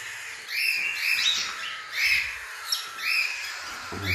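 Cockatiels and their chicks in a dim breeding area give repeated harsh, raspy squawks and calls that rise and fall in waves, fairly near and steady throughout.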